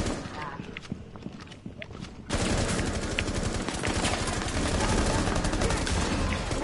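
Gunfire in Rainbow Six Siege, faint scattered shots at first, then a loud continuous stretch of rapid firing that dominates the rest, with players talking over it.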